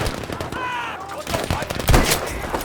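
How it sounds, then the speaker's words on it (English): Big guns fire in Battlefield V, a rattle of rapid shots and heavier thumps, with a loud burst near the end over a noisy wartime backdrop. "यहाँ पे बहुत बड़ी गन्स की आवाज़ आ रही है"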